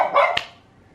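Indoor dogs barking at a noise outside, a short burst of two or three sharp close barks fading quickly into a quiet room.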